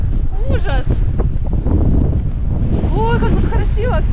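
Strong, icy cold wind buffets the microphone on the Simeiz embankment in Crimea, a steady roaring rush running throughout with a voice talking over it.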